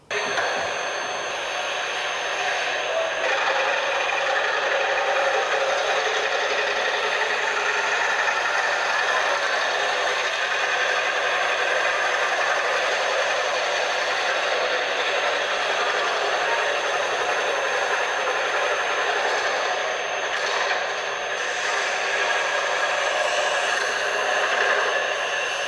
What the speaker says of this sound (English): Next stationary tool is jigsaw machine.